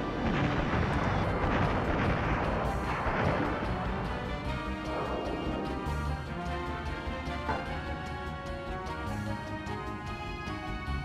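Booming cannon fire at a fortress in the video game Skies of Arcadia Legends, a dense, continuous rumble of blasts and crashes heard at moderate loudness with no talking.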